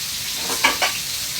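Chicken fries in oil inside a covered pan, a steady close sizzle with two short scraping or lid-knock sounds in the middle, and no talking.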